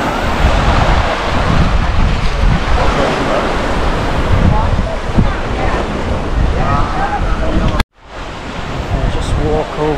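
Ocean surf rolls in continuously at Padang Padang Beach in Bali, a loud, steady wash of breaking waves with wind buffeting the microphone and a brief dropout near the end.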